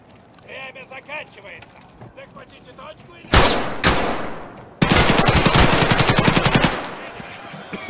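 A rapid-firing machine gun in a video game rips out in two loud bursts of tightly spaced shots, the second long and sustained. Voices chatter quietly before the shooting starts.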